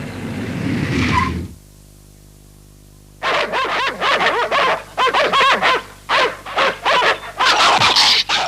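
Several dogs bark and yip in a village in an animated cartoon episode, loud repeated barks in bursts after a short quiet gap, with a noisy stretch at the start.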